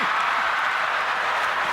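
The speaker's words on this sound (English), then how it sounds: "the crowd is going wild" A theatre audience at a Tyler Perry stage play roars with steady, dense applause and crowd noise, loud and continuous throughout.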